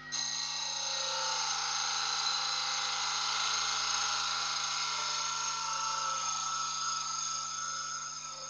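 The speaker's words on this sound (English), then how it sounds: "So now I'm going to run the parting tool down there and get my tenon." A parting tool cuts a tenon into wood spinning on a lathe, giving a steady, continuous scraping whine with a motor hum beneath that holds evenly throughout, with no voices.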